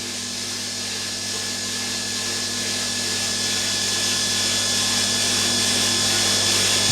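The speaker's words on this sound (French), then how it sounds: "ici c'est le tambour qui vient de démarrer" A gravity-fed garden pond drum filter runs steadily just after starting, giving a continuous mechanical motor hum with a faint rubbing, watery whir that holds level throughout, with no talking.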